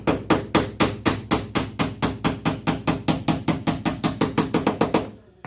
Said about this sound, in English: It's a little tap